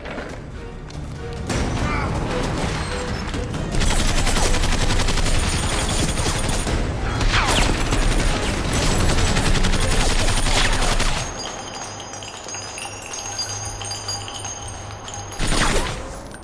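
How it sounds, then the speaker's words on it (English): Heavy gunfire rages in a shootout in an underground action movie, a dense, loud barrage of rapid shots and impacts that runs almost without break, with voices barely audible beneath. "who's shooting?"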